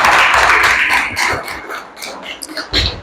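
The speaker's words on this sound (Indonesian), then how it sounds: "tepuk tangan untuk kita semuanya." A roomful of people claps together in a short, dense burst that quickly thins into scattered taps as a voice starts talking.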